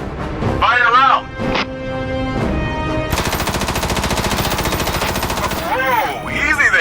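Sustained rapid weapon fire from Front Mission Evolved, a mech combat game, breaks out after a short stretch of in-game voice, forming a loud continuous rattling burst that runs for several seconds before voice returns over it.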